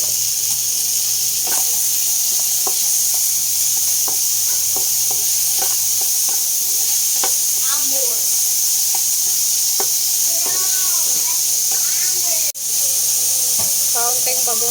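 Tomatoes sautéing in a pan give off a steady sizzling hiss with soft stirring scrapes and clinks, close and continuous, while a voice speaks over part of it.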